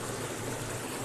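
Water escaping from a reservoir dam, a steady loud rushing wash like a stream, continuous and close for the whole moment, with no voices.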